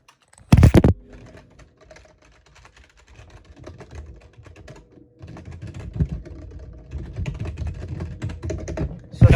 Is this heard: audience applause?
no